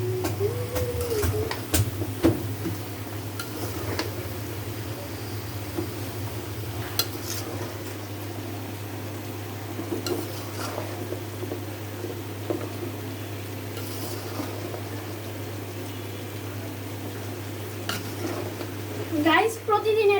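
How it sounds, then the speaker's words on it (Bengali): Bottle gourd and prawns are stirred in a pan, with repeated scrapes and clinks of a utensil against the metal over a constant sizzle and a low steady hum. "এখন নাড়াতে দিব।"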